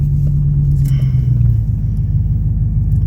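Steady low engine and road rumble from a 2019 Ram 1500 pickup truck fitted with helper air bags, driving at an even pace for a few seconds, with no talk.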